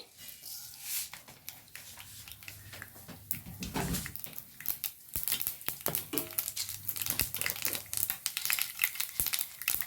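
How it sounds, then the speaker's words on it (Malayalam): Mustard seeds crackle and spatter in hot oil in a non-stick pan, a dense run of sharp pops and sizzling close by that grows busier over about ten seconds, with no one talking. "ഇനി ഞാൻ ഇതിലേക്ക് ഓയിൽ ഒഴിച്ച് കൊടുത്തിരിക്കുന്നു. ഇനി ഞാൻ കുറച്ച് കടുക് ഇട്ട് കൊടുക്കുന്നുണ്ട്."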